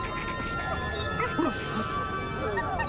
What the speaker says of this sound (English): You're the best hunting dog in the whole world, Smiley.